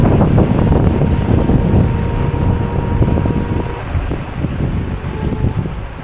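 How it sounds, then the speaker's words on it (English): Strong wind roars steadily while riding an electric scooter over ice in cold weather, a dense, close buffeting rush with faint tonal hum underneath, easing slightly toward the end. "the wind is causing me to not go that fast"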